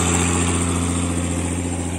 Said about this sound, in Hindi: सोहनी आवाज़ है ट्रैक्टर की